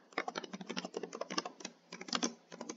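Rapid typing on a computer keyboard, a dense, uneven run of soft close clicks and taps with short pauses, heard alone and fairly quiet.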